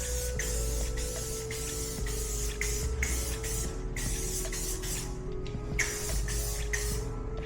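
Aerosol spray paint hissing in steady bursts as a faded dirt bike fuel tank gets coated, the repeated broadband spurts sitting over a constant low background hum.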